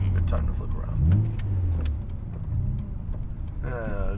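A Nissan R33 GT-R rumbles at low engine speed while it makes a slow turn-around, with a voice talking over the car and a short rising engine note near the end.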